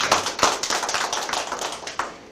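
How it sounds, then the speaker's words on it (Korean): Light, scattered applause from a seated audience at a Korean lecture on the Mugunghwa spirit movement, a few minutes of soft, uneven hand claps close by with no talking. "한번 박수 한번 여기서 한번 살짝 치겠습니다"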